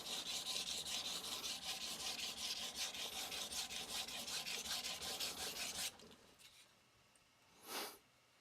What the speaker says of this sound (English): So we set the knife, hit the bevel, the Shinogi line bevel, and then up just a hair.